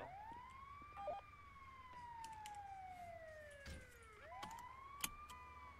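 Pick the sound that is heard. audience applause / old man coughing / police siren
police siren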